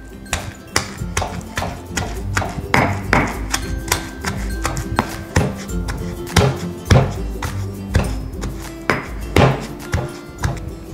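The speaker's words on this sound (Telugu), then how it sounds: "ఇలాగా మెత్తగా దంచుకోవాలి" A pestle pounds cucumber chutney ingredients with tamarind in a stone mortar. Heavy, steady thuds land close by at a fairly regular rhythm for the whole stretch, and no one speaks.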